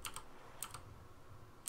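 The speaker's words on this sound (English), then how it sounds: "I'm just gonna press every button on the keyboard until I figure out what button it is to do this." Computer keyboard keys pressed in quick, scattered clusters of sharp, close clicks with quiet pauses between, while someone tries buttons to learn the game controls.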